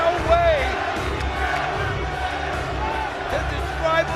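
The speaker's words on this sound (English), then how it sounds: "the crowd yelling Sabu has won" A wrestling crowd at a barbed wire match roars and yells for Sabu in a loud, continuous wall of voices. The noise surges at the start and again near the end.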